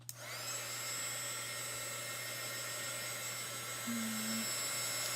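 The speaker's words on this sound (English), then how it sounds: "let me make sure this is dry before I ruin it. Okay, so I'm taking my heat tool." A heat tool blows hot air to dry chalk paste on a Valentine truck craft board, switching on abruptly and then holding a steady, moderately loud whirring drone with a faint whine throughout.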